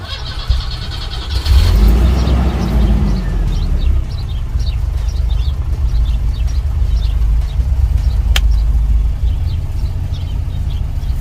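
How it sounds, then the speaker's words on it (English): A 1978 Volvo 245 cranks and catches on a cool morning, then settles into a steady, loud idle with a rough low rumble and faint ticking, heard up close for several seconds. "It starts right up every time."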